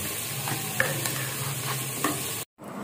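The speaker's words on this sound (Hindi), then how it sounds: "बेगम साहबाना टमाटर वगैरह और प्याज को भून रही हैं" Tomatoes and onions fry in a pan for a curry, giving a constant close sizzle with occasional light clicks of stirring before it abruptly cuts off.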